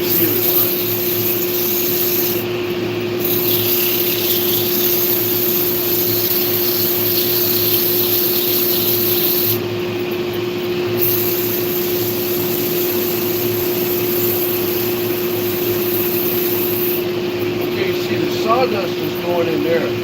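Dust extraction vacuum steadily sucking sawdust from a wood sander during sanding at 80 grit, a continuous droning hum with a strong steady tone, close and loud throughout, with faint voice in the background.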